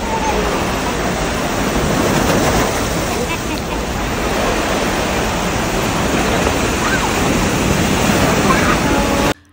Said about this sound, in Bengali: আমি একটু সাগরের ঢেউয়ের গর্জন রেখেছি আপনাদেরকে শোনানোর জন্য।